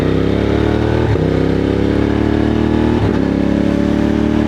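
A Moto Morini X-Cape 1200 motorcycle engine drones loudly and steadily, rising in pitch as it accelerates, with two brief gear shifts.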